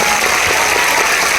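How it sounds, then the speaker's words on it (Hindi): Steady, dense applause from an audience at a motivational speech event for the AWPL network-marketing company, filling the space evenly at loud, close level with no talking over it. "हम लोग हृदय से बड़े सम्मान के साथ उनके लिए जरूर ताली बजाते रहेंगे।"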